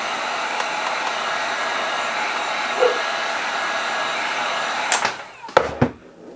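A heat gun blows a steady, close whooshing roar while warming vinyl wrap on a motorcycle fairing, then it cuts out near the end amid a few handling knocks and rustles.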